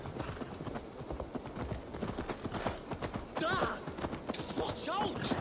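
Horse hooves clip-clop in a steady rhythm through a video game scene, with a horse whinnying briefly and people talking over the trotting.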